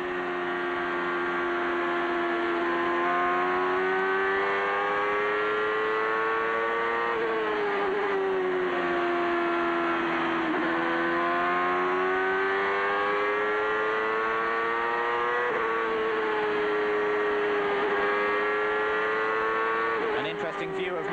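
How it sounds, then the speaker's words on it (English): Close onboard engine noise from a CART race car at Nazareth in 1999, a high-pitched, loud continuous whine that rises and drops sharply as it shifts through gears. "let's listen up to the onboard and the engine sounds from Andretti's car."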